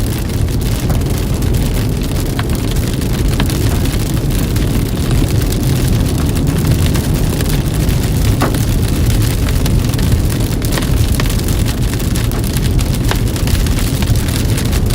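Small hail drums on a car roof during a severe storm near Goodland, Kansas, a loud, dense, continuous patter of impacts with occasional sharper hits, steady throughout and with no talking.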